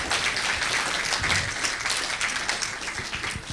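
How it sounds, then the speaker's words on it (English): Audience applause for architect Mark Sarkisian at the start of a lecture, a dense, steady crowd of clapping hands sustained evenly throughout at moderate loudness. "vous pouvez applaudir Monsieur Sarkisian."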